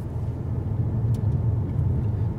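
A pre-facelift Mercedes C220d coupe with a four-cylinder diesel engine idles with a steady low rumble, heard from inside the cabin with no one talking.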